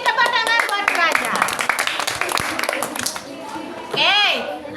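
A group of participants claps for a student named Praja during an academic coaching session, scattered hand claps mixed with chatter and voices talking over them.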